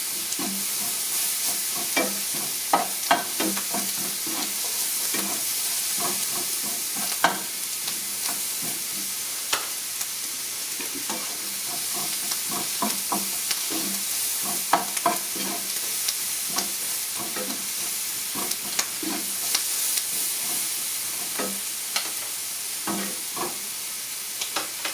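Onions fry and caramelize in a pan with sodium bicarbonate added, giving a loud, continuous sizzle with frequent stirring clicks and scrapes throughout.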